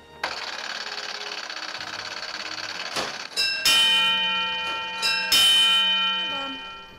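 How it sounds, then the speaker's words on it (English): A fire alarm telegraph runs with a steady mechanical whirring, then its bell strikes twice loudly, each ring sustaining and slowly fading, close and bright. "The bells ring to alert the firefighters"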